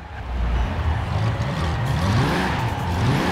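A 1992 Toyota Supra 2.0 GT Twin Turbo in Forza Horizon 4 revs up loudly and climbs through the gears, roaring steadily close by with a rising, aggressive tone.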